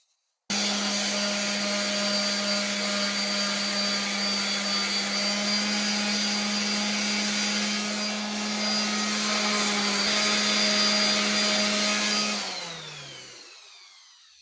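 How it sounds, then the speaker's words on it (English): A palm sander smoothing a Kelly axe starts abruptly with a loud, steady electric hum that runs evenly for several seconds, then spins down to silence at the end. "Now I'm going to put it on the palm sander and get it nice and smooth."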